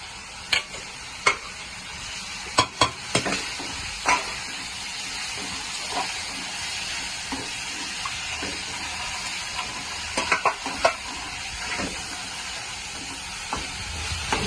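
Coriander and curry leaves sautéing in a pan, a soft steady sizzle under sharp intermittent spatula clicks and scrapes, with a dog barking faintly at times in the background.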